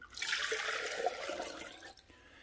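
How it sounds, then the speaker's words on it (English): Water mixed with cleaner pours in a steady splashing stream into a coffee maker pot, fairly close, lasting about two seconds before tapering off. "I'm going to pour it into the pot."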